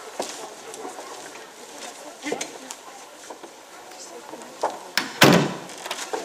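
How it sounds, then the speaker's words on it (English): A door is shut and locked during a school stage play, ending in a sharp, loud click-thud near the end amid quiet room noise and soft background voices. "Did he lock the door? Yes, he did."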